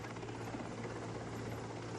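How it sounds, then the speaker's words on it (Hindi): A helicopter airlifts a stranded person from a pole above floodwater during a Gujarat flood rescue, its rotor a steady, loud, continuous drone with a constant low hum throughout and no voices. "किस तरह से हेलीकॉप्टर ने एक जान बचाने के लिए एयरलिफ्ट किया"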